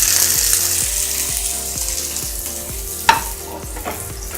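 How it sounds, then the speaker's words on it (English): Fish fillet laid skin down in a hot oiled pan, frying with a steady sizzle alongside a regular, rhythmic clicking and one sharp clatter, no talking. "After the pan was kind of heated up, let us drop in the fish fillet. Remember, always skin down."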